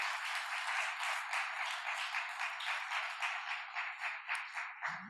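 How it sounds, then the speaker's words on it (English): A lecture audience applauds Edgar Sandoval at an ethical fundraising lecture: steady, dense clapping from many hands, even and sustained throughout, with no voices over it. "One more round of applause for Edgar Sandoval,"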